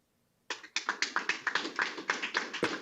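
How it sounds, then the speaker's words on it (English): Students in a classroom give a burst of applause: a quick run of sharp, evenly spaced claps begins abruptly after a brief silence and carries on steadily, close and fairly light, like a few hands. "Let me hear the applaud of the kids who support President Trump."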